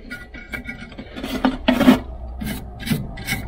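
Wire brush scrubbing parts of a Harman pellet stove, rough rasping strokes in an irregular rhythm, close and moderately loud.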